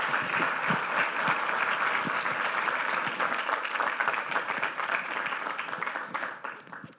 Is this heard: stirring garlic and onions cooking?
no